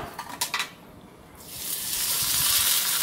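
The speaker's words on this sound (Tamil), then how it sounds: "எண்ணெய் கொஞ்சம் தெரிக்குது, இன்னும் நல்லா பொரிஞ்சு வரும்." Sago vadam fries in hot oil: after a few light clinks of a utensil, a bright, steady sizzle swells up and keeps hissing loudly and close.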